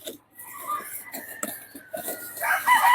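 Breeding chickens, crosses of Bruce Barnett sweater and hatch lines, cluck and squawk close by in a flock, with a rooster's crow rising near the end.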